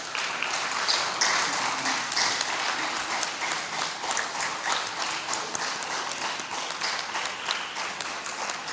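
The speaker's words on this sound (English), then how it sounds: "asking all our teams that are here now to please stand and to ask us all to give them a rousing applause." An audience at a school inter-high school debate day gives the standing debate teams a rousing round of applause, a continuous crackle of many hands that stays even and moderately distant for several seconds.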